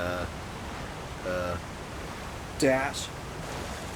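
A waterfall rushing in the video game Zelda: Tears of the Kingdom gives a soft, steady hiss of water beneath a few short bursts of speech.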